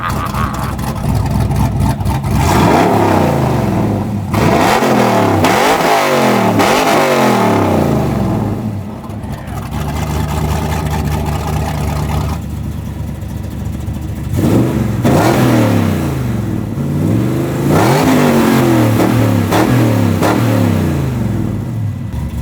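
A Ballistic Bandit 4X4 Trans Am engine, loud and close, revs hard over and over, rising and falling in throttle blips with no talk.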